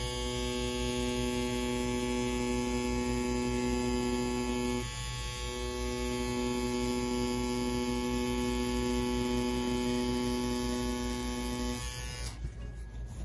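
Tattoo machine running a 5 round liner needle while lining, a close, steady electric buzz with a constant pitched hum that drops out briefly midway and cuts off near the end.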